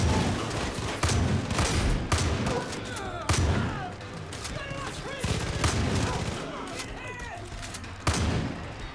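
Shotgun blasts and other gunfire in the video game Far Cry 5, a chaotic firefight with repeated loud booming shots at irregular intervals, mixed with overlapping game effects and some voices.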